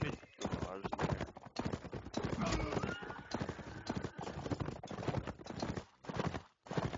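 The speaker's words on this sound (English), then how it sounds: "I think it's a horse." Rapid rhythmic hoofbeats clatter continuously, mixed with busy game-like sound effects and a person talking over them.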